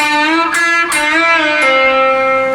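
A distorted electric guitar plays a short four-note phrase from a song with string bends, sustained notes gliding in pitch, played alone.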